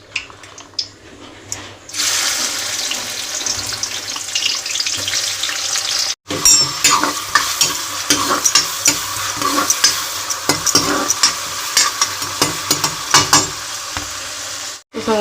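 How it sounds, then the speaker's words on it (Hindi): Chopped onions hit hot oil in a home kitchen with a loud, dense sizzle after a quiet start, broken by a brief pause and scattered clinks of stirring throughout. "तेल गरम हो गया डाल दूँ मैं सब काटे हुए प्याज"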